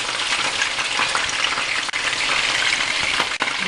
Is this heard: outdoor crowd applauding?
no